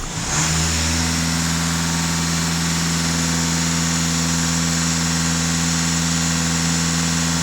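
A Skoda Superb's EA288 diesel engine runs steadily and loudly close by, with a strong low hum and harmonic drone held at raised revs throughout, and no voices.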